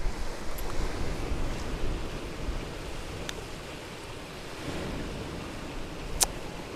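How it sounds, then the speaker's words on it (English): Sea waves wash steadily outside a sea view villa in Istanbul, Turkey, a soft, continuous surf roar mixed with wind on the microphone, with a few faint clicks and no one speaking. "Oh, the sound of the sea is so beautiful."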